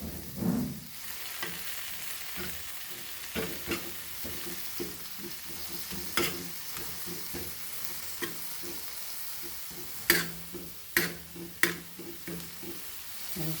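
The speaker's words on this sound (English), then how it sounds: "Fry this for few minutes before adding it to our salad, that is Kismoor." Dried prawns frying with Kashmiri red chili and turmeric powder in a pan for Goan kismoor, a steady low sizzle under scattered scraping stir strokes, with a quick run of sharper utensil clinks near the end.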